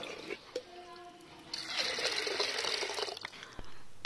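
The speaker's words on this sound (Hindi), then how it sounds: "मैं, थोड़ा गर्म पानी डाल दें।" Hot water pours and splashes while washing things at home, a steady gushing stream that swells midway and then trails off, with a few clatters and faint background voices.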